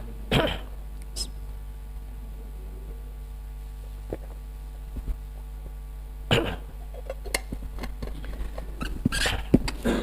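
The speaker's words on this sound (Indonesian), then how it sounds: "Kalau lagi batuk gini" A few short, sharp coughs or throat clearings, one early and a cluster later, close by over a quiet steady hum.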